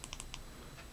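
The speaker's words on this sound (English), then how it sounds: "Then you're going to triple click" A Sofirn C8F 21700 flashlight side switch is pressed in a quick run of faint, crisp clicks close by, followed by near silence.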